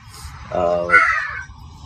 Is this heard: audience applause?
no